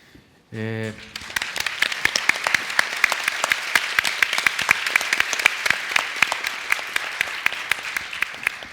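Audience at a Brazilian public policy panel discussion on agriculture breaks into sustained applause, many hands clapping steadily for several seconds after a short spoken phrase at the start.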